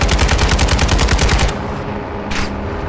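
Automatic gunfire from the Call of Duty: Modern Warfare II campaign, a loud rapid burst of evenly spaced shots lasting over a second, followed by quieter rumble and one more sharp shot.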